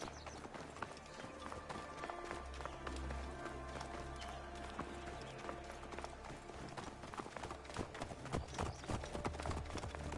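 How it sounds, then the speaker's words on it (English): Horses gallop past in Assassin's Creed Origins, a dense, fast clatter of hooves running close by, under a steady wash of game ambience, with no talking over it. "Look at these rude dudes just pile right in front of me on their horses"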